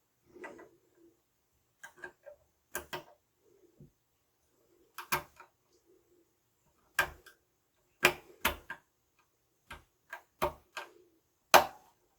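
Tiny screws are being fitted into a Mikrotik Cloud Series network switch, giving sparse, close, sharp clicks and ticks in irregular bursts against near silence.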